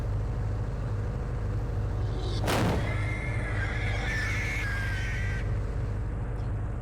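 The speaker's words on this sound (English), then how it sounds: "that's what a pig sounds like. Or a hog. Maybe a boar." In The Radio Station game, a boar lets out a single sharp squeal that sweeps downward, trailed by a wavering cry, over a constant low ambient hum.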